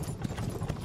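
Horse hooves clip-clopping in the Myth of Empires video game, a quick, rhythmic run of soft hoofbeats, moderately quiet and unaccompanied by speech.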